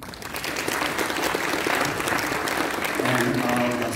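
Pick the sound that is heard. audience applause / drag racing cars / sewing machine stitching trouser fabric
audience applause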